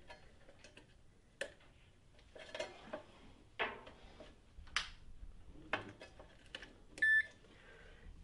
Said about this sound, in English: the unit starts to give you a tone, a beep tone, a single beep